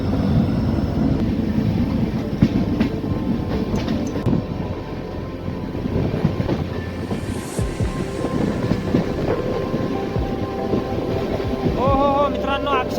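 Passenger train running through monsoon clouds and mist on the way to Dudhsagar waterfall, a loud continuous rumble and rattle of carriages with wind buffeting, and a brief squeal near the end.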